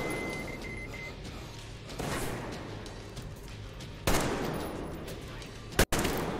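Steady gunfire rattles through a Metro Exodus firefight, punctuated by two sharp, loud bangs near the end, with faint voice underneath.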